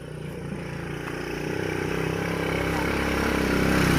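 A motorcycle engine rumbles past on a village road near oil palm plantings, a steady mid-distance drone that grows slowly louder over the clip, with no clear speech over it.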